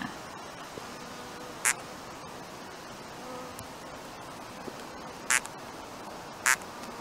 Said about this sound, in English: that was the sound of a small scabious mining bee female within her nest